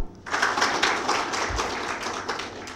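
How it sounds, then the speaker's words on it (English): A lecture-hall audience claps together in a burst of dense, rapid hand claps that starts sharply and keeps going at an even level for a couple of seconds. "Rajan, clap."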